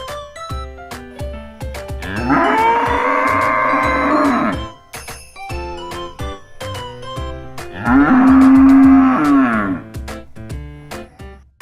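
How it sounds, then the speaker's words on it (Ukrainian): A cow gives two long, drawn-out moos a few seconds apart, loud and close, over a light plucked musical accompaniment. "Корова мукає."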